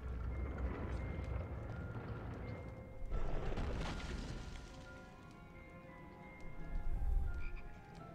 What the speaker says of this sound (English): Chocolate frog